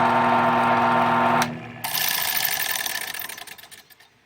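A rewired Harbor Freight belt sander motor runs with a steady whirring hum, cuts out briefly, then restarts and gradually spins down; no talking.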